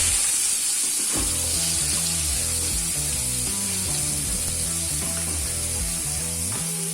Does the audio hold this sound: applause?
no